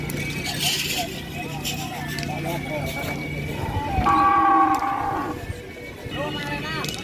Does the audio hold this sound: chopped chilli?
no